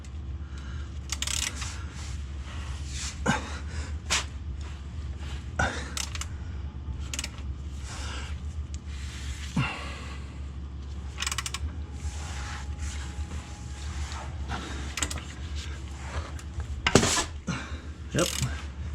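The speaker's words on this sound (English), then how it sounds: "We've got a bigger wrench, hopefully gives me a better grip." A wrench works at the oil drain plug under a 2002 Ford Focus, giving sporadic metallic clicks, creaks and clanks over a constant low mechanical hum, close and moderately loud.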